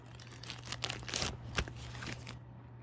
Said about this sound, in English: I just use a little plastic bag and put this on top up there, just to keep the dust out of the finder scope.